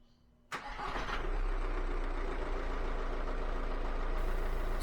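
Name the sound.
VW Golf Mk5 2.0 TDI engine starting and idling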